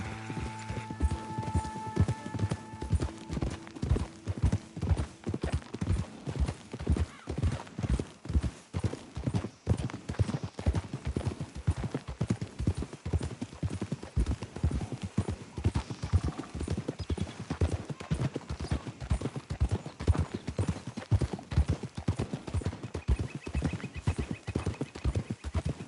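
Video game horses walk with steady hoofbeats clopping at an even rhythm for a long stretch, moderately loud with a faint background hum and no talking.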